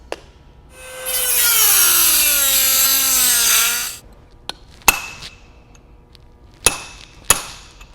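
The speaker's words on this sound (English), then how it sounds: "we're going to use a cold chisel and a hammer to strike it and break that inner race" A few sharp metallic strikes of a hammer on a cold chisel, breaking a bearing inner race on a Ford 8.8 axle, ring out spaced apart after a long grinding, scraping burst of tool noise.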